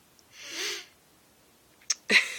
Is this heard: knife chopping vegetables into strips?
no